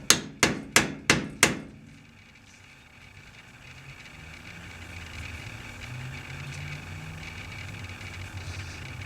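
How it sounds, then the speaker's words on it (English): Five sharp taps from a soft hammer seating a grease cap on a 1987 Porsche 944 wheel hub, evenly spaced and close, followed by a low steady background hum. "Use a soft hammer."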